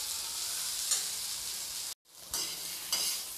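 Potato pieces frying until brown in a pan, giving a dense continuous sizzle with a few light stirring scrapes, close and steady apart from a sudden brief drop into silence midway.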